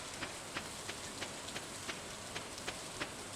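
Steady rain patters in the farming video game Stardew Valley, a soft wash of falling drops with faint, evenly spaced ticks repeating about every third of a second and no voices.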